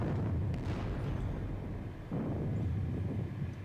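Artillery guns firing in a Napoleonic war video game set at the Battle of Friedland, heard as a continuous low rumbling roar of distant cannon fire, with a stronger boom around the middle, no talking.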